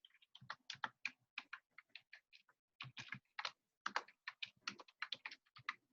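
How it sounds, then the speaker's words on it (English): Rapid keystrokes on a computer keyboard clatter in bursts separated by short pauses, close and fairly crisp, with no voices over them. "I'm just typing out the information."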